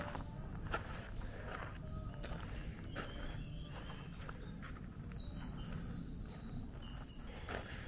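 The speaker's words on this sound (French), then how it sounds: "Écoutez les oiseaux." Birds chirp and sing in a secluded spot in Paris, bright tweets and trills over a soft outdoor background with scattered footsteps and faint movement, moderately distant.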